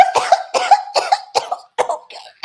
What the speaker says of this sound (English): If I start coughing like that